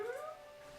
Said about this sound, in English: I guess that's what Puppy was whining at.